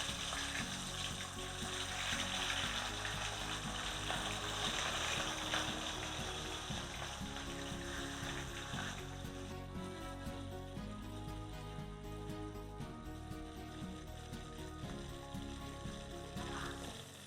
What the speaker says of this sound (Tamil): காடையை மட்டும் பொரிச்சு எடுத்துக்கலாம்